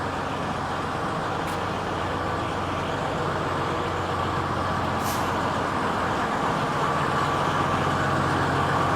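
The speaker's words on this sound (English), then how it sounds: "We're going to have some loud noise from this truck." A heavy truck rumbles by on a summer waterfront street, a loud, steady road roar that holds throughout with no pause.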